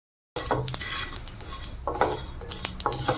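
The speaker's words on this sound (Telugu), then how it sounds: "ఇలా చిట్పట్ మన సౌండ్ చేస్తూ కాస్త గోల్డెన్ కలర్ వచ్చే వరకు ఫ్రై చేసుకుంటే సరిపోతుంది" Sesame seeds fry in a hot pan, giving a busy crackle with clinks and scrapes of a utensil against the metal in irregular bursts. The sound is close and no one speaks.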